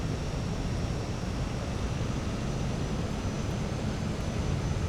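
A Beechcraft King Air 350i turboprop taxis along a snowy runway in Microsoft Flight Simulator, giving a steady, even engine drone and broadband rush that holds at a constant level throughout with no voices.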